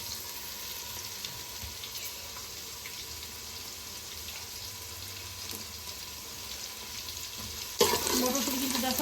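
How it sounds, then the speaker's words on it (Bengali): Green peas fry in a pan for pea pulao with a steady, close sizzle and light stirring scrapes, and a sharper, louder burst of sizzling near the end, without any talking. "মটরশুঁটি কিন্তু দেখো একদম ভালো রকম ভাজা হয়ে গেছে"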